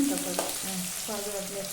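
Onions frying in a pan over low heat for vegetable upma give a close, steady sizzle, with a few metallic stirring clinks scattered through the short stretch.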